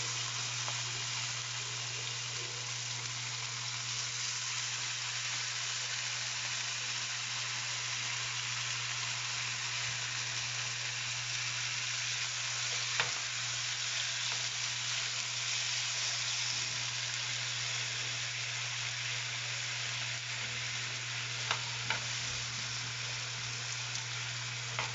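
Kimchi sautéing in a pan with browned garlic, a continuous even sizzle held at a moderate level with occasional faint clicks of stirring.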